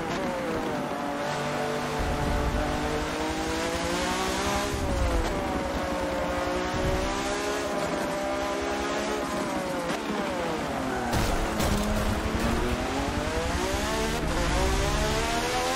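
In Forza Motorsport 7, a race car engine drones loud and continuous, rising and falling through gear changes with tire squeals mixed in, no pauses throughout.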